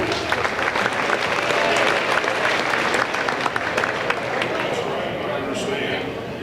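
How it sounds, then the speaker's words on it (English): An audience in a gym claps at a girls' regional high school basketball championship, giving a steady, continuous round of applause with crowd noise throughout. "Let's give a round of applause for Wayne Horsley."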